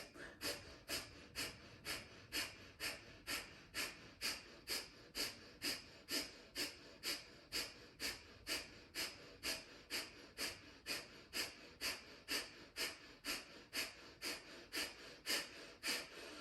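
Rapid breath-of-fire breathing in a hip-opening practice: quick, evenly spaced nasal exhales, about two per second, soft and close, continuing steadily throughout.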